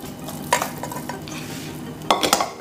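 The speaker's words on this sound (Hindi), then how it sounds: "मैं सारे मखाने को इसमें पलट दूंगी" Makhana barfi mixture with ghee being turned out of a pan onto a ghee-greased plate, a few scraping and clinking thuds of spatula and metal, close and moderately loud.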